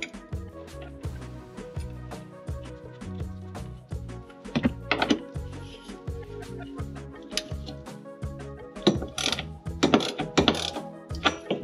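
A hand ratchet clicks in quick, uneven bursts while bolts are tightened on a 1964 VW Beetle transmission, close and fairly quiet, with metallic taps and clunks between the runs of clicks.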